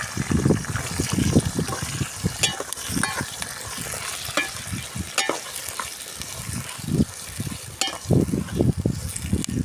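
Tomatoes, onions and green chilies sautéing together in a pan for village-style chicken curry, with a continuous sizzle and repeated rhythmic stirring scrapes and soft thuds, close and fairly loud.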